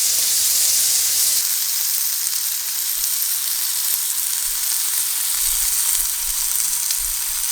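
A beef olive burger patty fries in a pan over lowered heat, giving a constant, close, bright sizzle with occasional faint low knocks.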